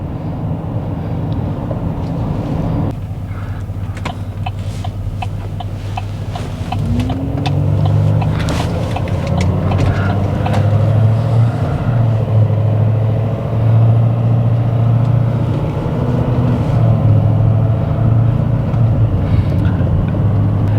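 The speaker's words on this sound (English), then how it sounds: "V8 diesel engine in this 2019 Silverado has 445 horsepower at 2400 RPM" A 2019 Chevrolet Silverado with a 6.6 L L5P Duramax V8 diesel runs with a low, steady rumble that swells as the engine revs up, then holds a loud, sustained drone with faint road noise.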